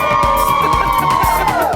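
A crowd cheers loudly at Heroes Circle as contestants walk out of the tunnel at a season finale event, a dense roar of voices with a rhythmic thumping beat underneath.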